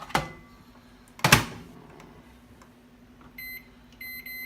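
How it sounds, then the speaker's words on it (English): Two sharp clunks of a microwave door and buttons, followed by a low steady hum and a few quick electronic beeps. "this you could just microwave really quick"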